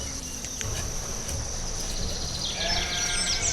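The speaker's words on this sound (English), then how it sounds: "There's the sheep herd." A sheep herd bleats in the city-building video game Banished, with a few wavering calls over a steady insect-like chirring ambience, rising toward the end, and no talk.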